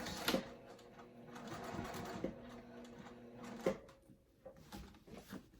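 A sewing machine back stitches on a zip crossbody bag, running faintly with a few sharp clicks and clunks between short stitching runs, fairly quiet and close.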